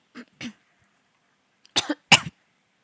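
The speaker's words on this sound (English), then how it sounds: "Also coughing for some reason." Two short coughs, a pause, then two heavier, louder coughs close to the mic; otherwise quiet.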